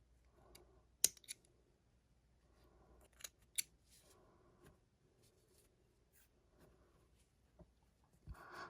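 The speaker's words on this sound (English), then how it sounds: "Then we can just grab our scissors and snip off these ends." Scissors snip off loose crochet thread ends on a small flower coaster, making a few quiet, sharp cuts spaced among soft rustling of thread and handling in an otherwise hushed room.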